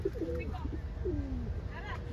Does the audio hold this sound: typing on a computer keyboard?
no